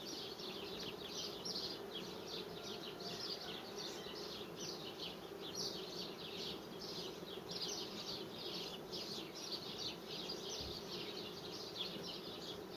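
Honey bees swarm around hive frames during a complex colony merger, their steady dense buzzing continuous and close throughout, with no talk.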